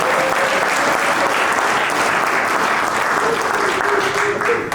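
Loud, sustained applause from a crowd at a 70s/80s themed ball, a dense steady wash of clapping held for several seconds, with faint voices mixed in.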